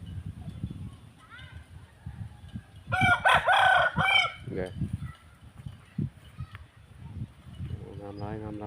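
A young Burmese fighting rooster crows once nearby, loud and drawn out, amid quieter clucking and someone talking in the background in a rural village.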